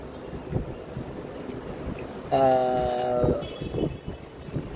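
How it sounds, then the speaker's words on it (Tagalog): Cold wind buffets a cellphone microphone outdoors in Taiwan, making a low rumbling roar throughout, with a brief tonal horn-like sound rising midway and fading. "At saka yung hangin niya talaga, napakalamig."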